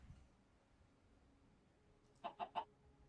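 A chicken clucks three quick times near the end in Minecraft Bedrock, short clear clucks after a stretch of faint quiet ambience.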